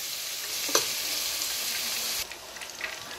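Onion frying in a pan gives a steady soft hiss of sizzling, broken by a brief scrape or stir, then quietens slightly with a few small crackles.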